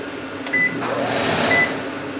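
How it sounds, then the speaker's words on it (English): A 2020 Riverstone 39RBFL RV's microwave exhaust fan drones with a steady whoosh throughout, with two short high electronic beeps partway through. "you've got a microwave with exhaust fan, 2 speeds, and of course a light."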